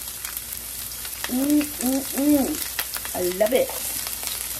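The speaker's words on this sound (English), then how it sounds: "there's nothing better than the smell of onion cooking in a pan." Onions sizzle in a single pan for a chicken and potato dinner, a steady frying hiss that runs underneath a short spoken remark.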